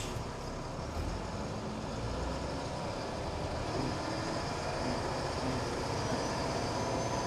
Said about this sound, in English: Let's take the LMTV for a drive.